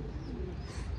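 Young pigeons give a brief, low, muffled coo nearby, heard alone for about a second.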